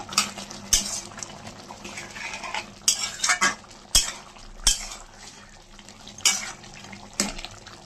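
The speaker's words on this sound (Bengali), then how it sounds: "এখন আবার ভালো করে নাড়িয়ে চেড়িয়ে নেব।" Chicken curry (Chicken Maharani) is stirred in a pan with ground cumin and fried spice mix, a spoon scraping the metal in sharp, irregular strokes over a soft background sizzle, with no talking.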